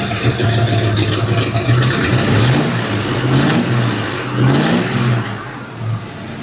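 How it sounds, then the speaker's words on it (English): A Ford Fox Body Mustang engine, recently fixed after barely running, revs up repeatedly from a rough idle, with loud, close rises and falls in pitch and a throaty rumble underneath. "It revs so much better."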